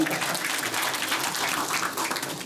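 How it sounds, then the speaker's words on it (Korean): Steady applause from a crowd at a town meeting with the mayor of Naju fills the whole stretch, a dense even patter of clapping at moderate volume. "박수 한번 쳐주십시오"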